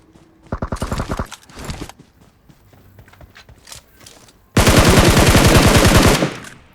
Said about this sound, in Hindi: फिर वहाँ पे फायरिंग का साउंड आता है, फायर होता है मेरे ऊपर।